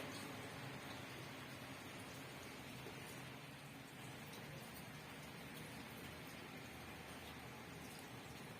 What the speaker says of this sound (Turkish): Çok seviyorum böyle yağmuru.